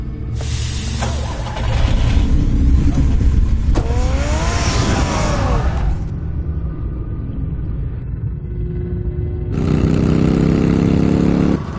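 A car engine in the video game Batman The Telltale Series, loud revving bursts and a roaring pass with rising pitch sweeps, a quieter rumbling stretch, then another loud surge near the end.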